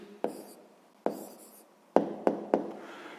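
Hand writing an answer on paper, several sharp pen or chalk taps and short scratching strokes, close and fairly faint, spaced irregularly across a few seconds with no speech.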